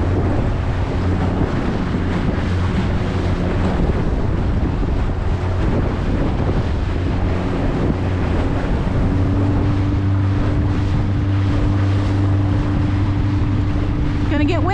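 Wind buffeting a Lund boat out on open water, a steady loud roar of gusts across the microphone mixed with low engine and water rumble, with voices talking at times over it.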